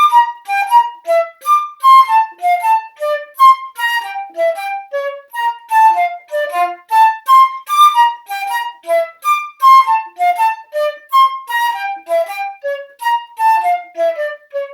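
A flute plays the middle section of a piece alone, a clear, lively run of quick, even notes moving steadily up and down in phrases without big jumps or octave leaps.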